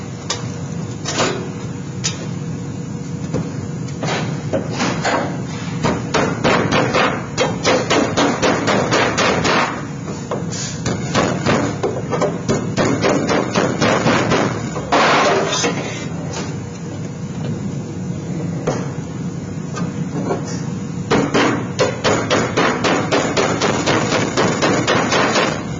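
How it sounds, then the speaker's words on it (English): Metal parts for a square throat ogee offset are hammered with steady, rapid, loud strikes that continue almost without pause, with a few heavier blows standing out. "now I can just finish my hammering."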